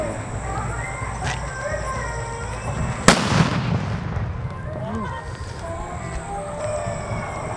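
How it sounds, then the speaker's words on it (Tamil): A single sharp paper bomb firecracker blast cracks out sharply and echoes, amid background chatter and other pops in the distance. "எப்படி வெடிக்குது அப்படின்றத வெடித்து பார்த்துடலாம்."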